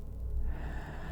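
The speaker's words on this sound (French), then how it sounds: "Oh, la respiration." A short, close breath in an indie horror video game, a single rough inhale with a faint wheezy edge over a dull low ambient drone.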